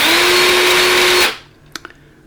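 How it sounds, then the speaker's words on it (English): Battery-powered Alligator Lopper chainsaw motor running loud and steady for just over a second with a high whine, then cutting off and spinning down, followed by a few faint clicks. "I've put a battery into the chainsaw, and I'm going to test the motor."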